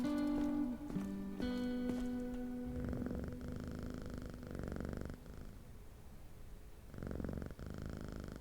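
Soft, steady cat purring from a pony video game, running continuously alongside layered game music and chimes with no talking.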